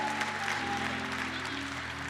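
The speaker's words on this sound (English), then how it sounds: "Let's give him a great hand clap of praise." Audience applause at a Saturday morning forum, steady dense clapping filling the whole stretch at moderate level, with a faint sustained tone beneath.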